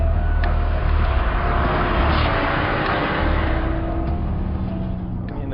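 Bugatti Chiron engine pulling hard on a track, a loud, steady, broadband roar that holds at near-constant intensity throughout, close and continuous with faint tonal whine threaded through, slightly easing toward the end.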